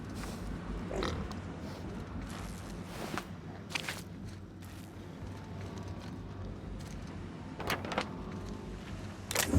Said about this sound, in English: This Sissy Pigs make excellent test subjects.